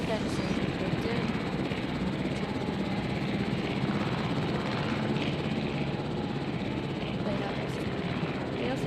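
Steady helicopter rotor drone in the video game Jurassic World Evolution, with a low thumping hum, continuous and fairly faint, with some voice mixed underneath.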